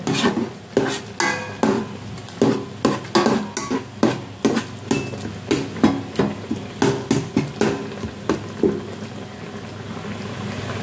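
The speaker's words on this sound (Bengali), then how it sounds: "মশলাটা মিশিয়ে দিতে হবে।" Noodles with their spice mix stirred in a metal pot, a utensil knocking and scraping against the sides in a steady repeated rhythm of sharp clinks, close and clear with no talking.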